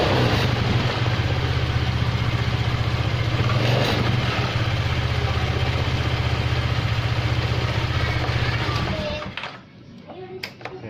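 A Honda Vario 110 carburetor scooter with a fault that makes it stall suddenly idles with a steady, close, throbbing hum for about nine seconds, then dies out. A few clicks and knocks follow in the quiet.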